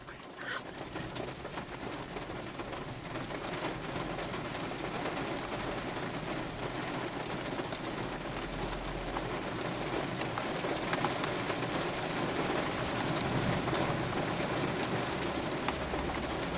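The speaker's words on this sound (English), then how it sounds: "That's the heaviest rain I may have ever recorded." A thunderstorm downpour in Littleton, Colorado, keeps up a steady, full hiss of heavy rain hammering nearby surfaces for the whole stretch, with a faint low rumble beneath and no talking.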